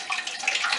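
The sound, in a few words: pear puree poured from a bowl into a pan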